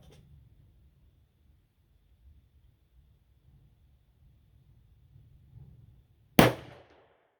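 A .41 rimfire Southerner derringer fires an Acorn blank loaded with 9 grains of 3F powder, a single sharp loud report after several seconds of quiet low rumble, with a short decaying tail.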